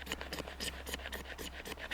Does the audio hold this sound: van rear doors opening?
no